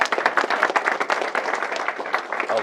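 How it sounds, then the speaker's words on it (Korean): An audience of special forces regiment soldiers at a lecture claps steadily and densely for a few seconds, close and fairly loud, with no talking over it. "박수 한번 더 주세요."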